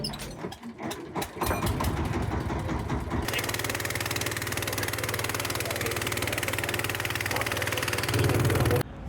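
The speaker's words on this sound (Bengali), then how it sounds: "সামনে আমাদের জন্য বোট দাঁড়িয়ে আছে এই বোটের মাধ্যমে আমরা জাহাজে উঠব" A boat engine idles steadily at a river jetty before passengers board for a ship crossing to Sandwip; the low mechanical drone runs continuously and fairly loud after a short stretch of mixed noise at the start.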